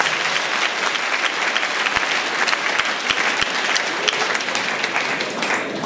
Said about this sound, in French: Applaudissez les gens de Kolda.